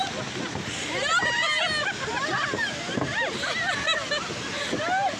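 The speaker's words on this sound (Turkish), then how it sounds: "Burası da bizim şelale hep görüyorsunuz" Water splashes and rushes continuously at the Muradiye waterfall in Van, close and steady, with people talking and calling out over the roar.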